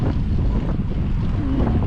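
Cold headwind buffets the microphone of a cyclist climbing Covey Hill, a steady low roar of wind rush with no voices, loud and continuous for the whole short stretch.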